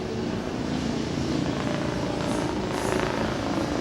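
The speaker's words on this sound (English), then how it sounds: "All right, we got a chopper." A helicopter passes overhead outdoors, its steady rotor and engine roar loud and continuous throughout with no speech.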